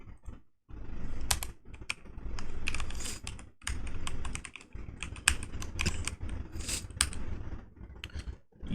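Rapid, close clatter of keystrokes as JavaScript code is typed on a computer keyboard, continuing in uneven bursts with brief pauses and no talking.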